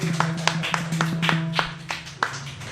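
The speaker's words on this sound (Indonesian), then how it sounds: "Tepuk tangan dong semuanya." Small group clapping at a live music session in a cafe, a handful of distinct separate claps over a low sustained tonal hum, fairly close and sparse.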